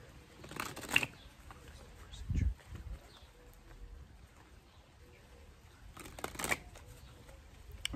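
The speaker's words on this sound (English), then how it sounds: "Let's allow each card to just fall into whatever place it wants to fall into." Tarot cards shuffled by hand in a few short, crisp riffling bursts separated by quiet pauses, with a soft thump as the deck is tapped down.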